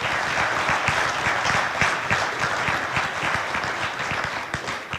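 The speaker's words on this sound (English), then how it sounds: "So give yourselves a round of applause." Audience at a Libertarian Party of Wisconsin state convention applauding, a full, sustained round of close, crisp clapping with faint crowd murmur underneath.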